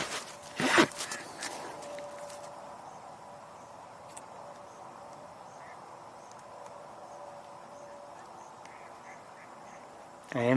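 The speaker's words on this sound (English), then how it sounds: "I am hearing some mallards" Mallard ducks give a short burst of quacking near the start, followed by quiet outdoor ambience with faint rustling, then a little more sound at the very end.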